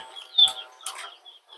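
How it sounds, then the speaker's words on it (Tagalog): A bird gives a few thin, high chirps, moderately close, in short separate bursts against a quiet background. "ibon."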